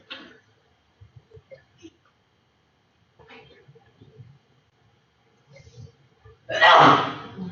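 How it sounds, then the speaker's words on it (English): A single sharp sneeze bursts out loudly near the end, after quiet, scattered speech and small mouth sounds. "No sneezing, please."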